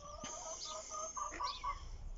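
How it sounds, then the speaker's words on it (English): Chickens clucking and calling in a short burst of repeated, mid-pitched notes, moderately near, with no talking over them. "You might be able to hear in the background my chickens."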